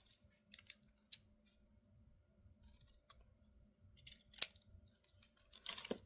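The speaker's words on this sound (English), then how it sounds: "I'm going to go ahead and cut this out." A craft piece being cut out with scissors at a craft co-op session, with a series of close, crisp snips and clicks, sparse at first and then quicker and louder toward the end, in a quiet room.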